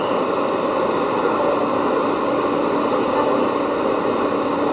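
A New York City subway E train on the 8th Avenue line rumbles along with a steady, droning hum and rail hiss, constant and close throughout.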